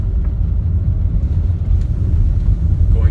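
A Škoda Karoq Style 2.0 TDI 4x4 rolls downhill with a steady low engine and road rumble inside the cabin, loud and continuous for a few seconds.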